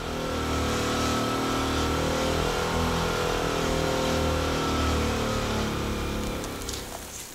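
A motor drives the mechanical winches of a river fishing net on the Shkumbin, a continuous loud, low engine drone with a rough mechanical rumble that holds steady before easing slightly at the end.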